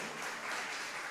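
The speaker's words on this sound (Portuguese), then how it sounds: "Oh, uma salva de palmas." Round of applause from a church congress congregation, a steady wash of many hands clapping at moderate distance, fairly faint, with no voices over it.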